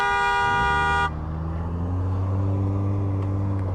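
Car horn blaring in one long sustained honk for about a second on a street during a Surron electric bike ride, then a low steady motor hum continues alone.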